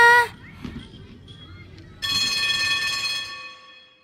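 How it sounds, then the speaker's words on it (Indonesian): A school bell rings in a steady, continuous metallic tone that starts abruptly partway through and holds for about two seconds before fading, preceded by a quiet stretch with a short tone at the very start. "Bel pun berbunyi."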